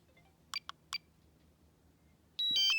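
A drone controller powering off gives a few short, quiet electronic chirps, then a louder, brief run of tonal beeps in a quiet room.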